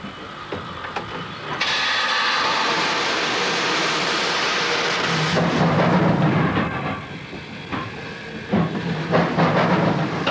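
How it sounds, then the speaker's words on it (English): A restored heritage train runs along an enthusiast-maintained stretch of railway track, with a steady mechanical rumble and rattling of wheels and carriages, broken by clanks and ratcheting knocks near the end. "Railway enthusiasts have now restored the track on this bit, and they run their own train up and down it."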